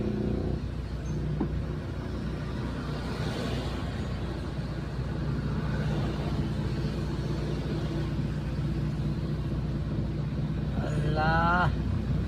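Steady road traffic rumbles along a German autobahn, the A3, with a continuous broad engine and tyre drone throughout and a faint tonal whine near the end, while people talk over it.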